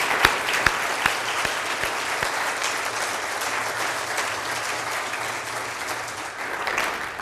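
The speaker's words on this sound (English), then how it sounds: "Could we give every group, every facilitator a hand clap?" An audience at a community gathering on poverty applauding group facilitators; sustained, fairly loud clapping from many hands, with a few sharp individual claps standing out at the start.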